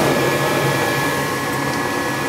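A household gas furnace runs after firing up, a loud steady broadband roar of burner and blower with a faint whine, constant throughout and no talk.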